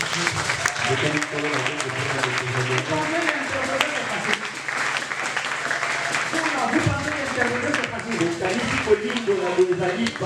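A church congregation applauds during a service, sustained clapping over roughly ten seconds mixed with voices and a sustained musical tone underneath.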